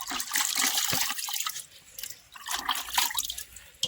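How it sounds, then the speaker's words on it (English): Water drains off washed pumpkin leaves into a bucket, a steady close trickle and splash with scattered drips, swelling and easing over a few seconds. "the water drains in the bucket"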